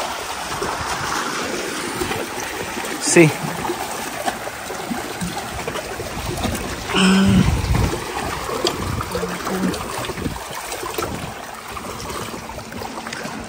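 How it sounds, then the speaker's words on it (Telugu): Water flows steadily in a stream on an island, a continuous soft rushing and trickling close by, with a couple of brief louder knocks or splashes and no talk over it. "water is making me feel like very happy and very calm, soothing"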